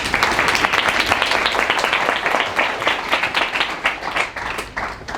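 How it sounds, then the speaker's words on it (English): Audience applause and clapping at an evening AI talk as the speaker, an MIT Media Lab expert, is welcomed to the stage; dense, steady, close clapping fills the full stretch without any voices. "give them a big round of applause"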